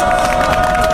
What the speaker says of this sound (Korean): 우리 다 승리할 거라는 승리의 힘찬 박수 함성을 질러봤으면